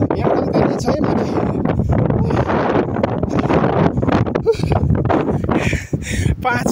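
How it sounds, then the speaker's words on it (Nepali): Strong wind gusts buffet the microphone on a mountain trail near Lapsi Ghar, producing continuous rough rumbling and roaring with dips, loud and close, while voices are heard in the middle of it. "यो ग्रिप खालको हावा चलिरहेको छ"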